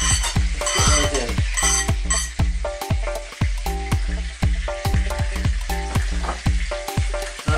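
Garlic, fresh thyme and sliced onion sizzling in a hot pan, loud and close, with rhythmic spoon or spatula knocks and scrapes against the pan repeating throughout.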